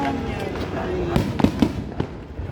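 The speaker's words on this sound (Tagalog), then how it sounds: "Dami pa rin fireworks, ano?" New Year's fireworks bang and crackle in a series of sharp, irregular bursts, some near and loud, over a steady background of voices and noise.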